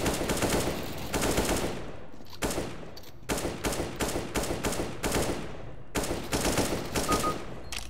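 Rapid bursts of automatic gunfire from Counter-Strike: Global Offensive on the Mirage map, loud and close, coming in several sustained volleys separated by short pauses, with no talking.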